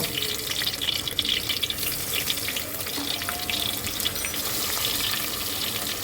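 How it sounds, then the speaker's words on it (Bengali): A hilsa fish head, rubbed with salt and turmeric, fries in hot oil, giving off a steady, close sizzle with scattered crackles that continues without a break. No one talks. "মাছের মাথাটা প্রথমে একটু লবণ হলুদ দিয়ে মেখে নিয়েছিলাম এখন এটাকে ভেজে নেব"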